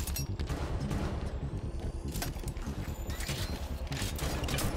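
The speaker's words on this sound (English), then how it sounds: "it's not a scatter shot, it's a rocket launcher" Rapid bursts of rocket launcher fire and explosions from a Halo 5 firefight ring out loudly, with clattering, booming shots layered densely over game noise throughout.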